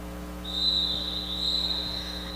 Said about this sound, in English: That rolling whistle brings us back to the action.